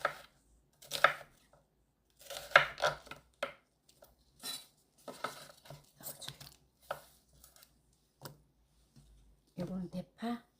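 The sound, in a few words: knife chopping onion on a cutting board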